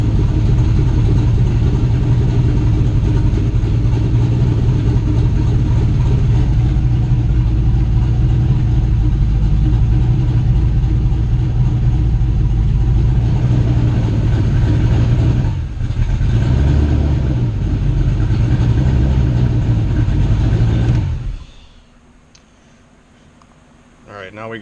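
An LS V8 engine in a turbocharged Fox Body Mustang idles steadily and close by, a low continuous rumble with slight fluctuations, before cutting out near the end.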